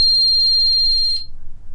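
A loud, piercing electronic alarm tone sounds steadily, then cuts off abruptly, leaving faint room noise.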